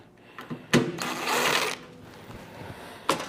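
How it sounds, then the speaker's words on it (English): Removing sheet metal screws from the housing of a Heat Wagon P1800 electric heater with a power driver, short whirring bursts with clicks and a longer whine in between, close and alone. "First, we need to remove all sheet metal screws from the housing."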